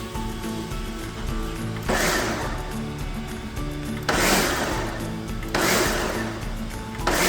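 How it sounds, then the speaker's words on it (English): A blender pulses passionfruit pulp with seeds in three short bursts of whirring, chopping noise, separated by quieter stretches of motor hum. "it already starts to get more liquidy just from 5, 6, 7 hits of the blender"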